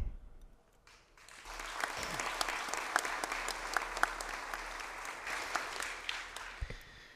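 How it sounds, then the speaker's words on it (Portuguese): An audience in a legislative chamber applauds Márcia Simões at a solemn Tiradentes Medal session, steady moderate clapping rising after a brief quiet start and holding evenly, with a few sharper individual claps standing out. "Todos os aplausos, porque ela é digna desse desse, dessa homenagem aqui dessa casa"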